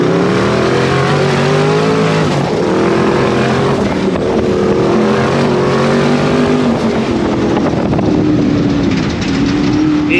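A twin-turbo vehicle drag racing on the sand at Glamis, its engine roaring loud and close with rising revs through several gear pulls, a brief dip around the shifts, then a sustained high-pitched whine and rumble throughout.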